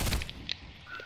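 Quick burst of gunfire in a shooter video game, a few clipped shots crowded into the first half-second, then sparse fainter pops with no voices.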